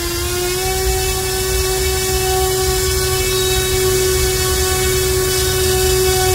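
An electric motor spins a 3D-printed Hamilton Standard 11x6 propeller at full power on a test stand, producing a loud, constant whine with a steady tone and a droning buzz throughout.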